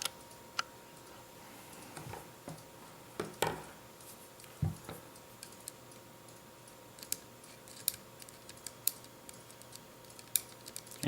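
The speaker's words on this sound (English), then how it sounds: "And you can hear it clicking." An anti-reversal latch clicks as its gear is spun by hand, producing sparse, sharp mechanical ticks at irregular intervals, close but quiet, with faint background hum.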